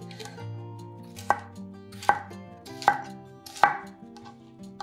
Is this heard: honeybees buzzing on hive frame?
no